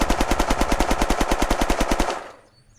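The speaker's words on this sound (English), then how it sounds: "I'm not going to lay down, I'm just going to shoot from the bottom and see what happens." The Viper pistol in the video game Unturned fires a long rapid, evenly spaced burst of loud shots for about two seconds, then stops and leaves a brief fading echo.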